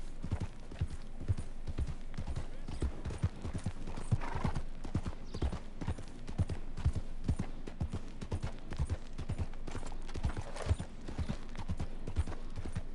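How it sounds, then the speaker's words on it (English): Hooves clip-clop in a steady trotting rhythm, close and continuous, with an occasional horse whinny mixed in, in the video game Red Dead Redemption 2. "Oh, it's their horses."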